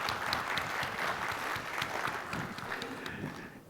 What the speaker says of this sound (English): let's give our veterans a round of applause